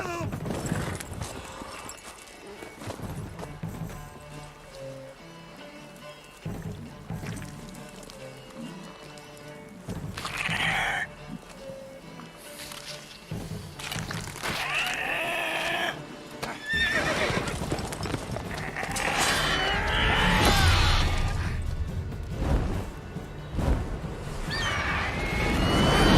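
A horse in The Witcher 3: Wild Hunt clip-clops along and gallops, letting out loud neighs and whinnies, with game music and effects around it and faster, heavier hoofbeats building toward the end.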